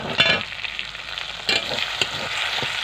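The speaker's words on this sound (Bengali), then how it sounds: "মশলাটা একটু ভাজা ভাজা করে নেবো" Cumin seeds and bay leaf spluttering in hot oil, a bright continuous sizzle with a few sharp stirring scrapes, nearby and unaccompanied by talk.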